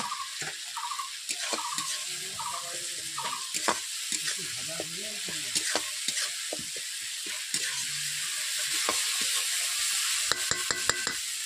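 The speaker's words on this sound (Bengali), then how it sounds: "আমি সব উপকরণ দেওয়ার পর এগুলোকে মশলাগুলোকে ভালোভাবে কষিয়ে নিচ্ছি 3 থেকে 4 মিনিট" Spices and chopped tomato frying in a pan for a Bengali rohu fish curry with pointed gourd, giving a steady close sizzle with scraping stir strokes throughout, without speech.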